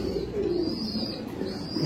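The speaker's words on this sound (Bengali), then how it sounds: "খুব সুন্দর কবুতরটা।" A pigeon coos close by in a soft, continuous low murmur, with faint chirps in the background.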